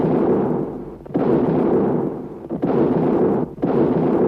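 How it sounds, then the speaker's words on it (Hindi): Cannon salute of heavy artillery fire booms out in a series of four big, resonant blasts spaced roughly a second apart, each with a long rumbling decay cut short by the next. "21 तोपों की सलामी दी।"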